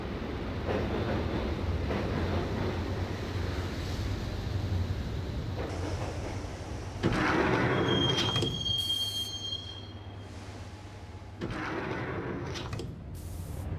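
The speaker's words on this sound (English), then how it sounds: "the train doors had already shut behind me, and I was in for the ride" A subway train ride in the video game Max Payne: a steady rumbling rattle of wheels on track, a sharp metallic squeal, doors thudding shut, then the ride continuing in a low roar.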